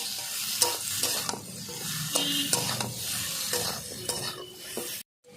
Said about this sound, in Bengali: ভালো করে আমি পটলগুলোকে আগে একটু কষিয়ে নিচ্ছি এইভাবে